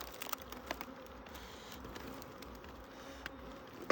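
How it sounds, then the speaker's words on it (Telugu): Wild honey bees buzz around a forest hive being opened for honey collection, a steady close drone with occasional taps and knocks. "చూడరా ఈగలు ఎలా ఉన్నాయి."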